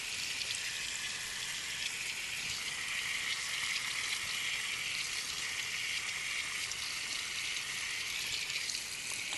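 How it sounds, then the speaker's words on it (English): Tap water runs steadily from a sink faucet while hands are rinsed with fingers pointing down, a close, even hiss of flowing and splashing water with no talk over it. "And you want to rinse with your fingers pointing down."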